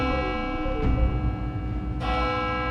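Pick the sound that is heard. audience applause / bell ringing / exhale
bell ringing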